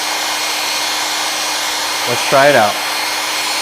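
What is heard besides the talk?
hairdryer running on cold setting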